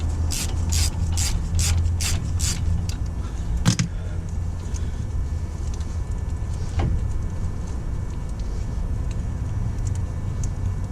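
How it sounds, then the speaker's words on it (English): A ratchet wrench works a brake caliper bolt loose on a car in a tire shop: a quick run of sharp, close clicks at first, then a few isolated clicks and knocks against a low workshop hum. "I always like doing the bottom bolt first, taking that completely right off. Now I come up to the top."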